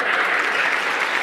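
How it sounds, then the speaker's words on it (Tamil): A debate-forum audience breaks into loud, dense applause for a speaker, a continuous roar of many hands clapping that holds steady throughout. "அவர்களுக்கு நீங்கள் ஒரு பெரிய கரகோஷம்"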